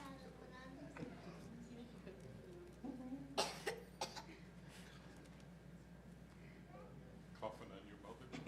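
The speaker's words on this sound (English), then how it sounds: "Coughing on your mother." Several short coughs from a person in a quiet room during a village board meeting, mixed with murmured talk and chatter nearby.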